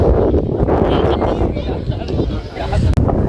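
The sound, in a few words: cold wind at Kodanad View Point, Ooty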